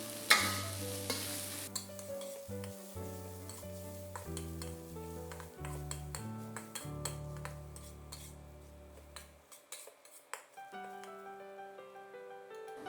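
Choy sum and salt stirred in a hot pan, with a spatula scraping and tapping over a quiet sizzle while soft music plays underneath and no one speaks.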